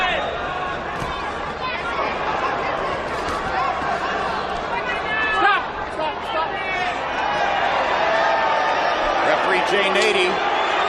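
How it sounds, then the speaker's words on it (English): An arena crowd at a Juan Manuel Marquez vs Marco Antonio Barrera boxing fight murmurs and voices disapproval, a loud, steady hubbub under continuous talk. "Crowd doesn't like that."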